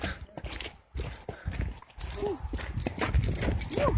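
Horse hooves clip-clop in a quick, uneven rhythm during a trail ride, close by and mixed with rustling, while people talk in French over them.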